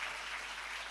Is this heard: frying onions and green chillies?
no